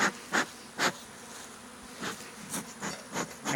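Honey bee swarm buzzing close by, individual bees droning past in short repeated swells over a faint steady hum from the rest of the swarm.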